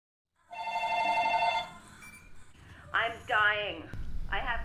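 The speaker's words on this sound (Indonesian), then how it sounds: "terganggu dengan pesan suara sebuah telepon" A telephone rings in a film scene, a steady bell tone for about a second, followed by a recorded voice message playing from the phone's answering machine.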